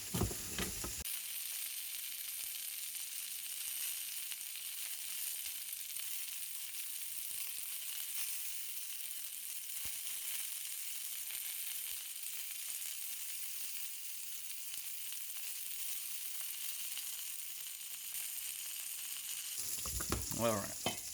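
Sausage rounds fry in a pan with a continuous, even sizzle that crackles on for about twenty seconds, with a few louder handling sounds at the start and end and no voices.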